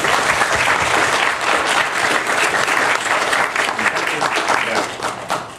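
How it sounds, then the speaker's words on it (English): Loud, dense audience applause for Tom at a San Francisco task-force meeting, sustained throughout and easing slightly toward the end. "I want to give Tom another round of applause for that"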